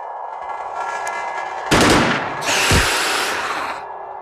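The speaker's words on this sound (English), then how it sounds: "Burst fire." Burst-fire gunshots in the turn-based video game Xenonauts: a loud, close rattle of rapid shots that begins abruptly and is followed by a second, brighter burst lasting about a second, with no talking.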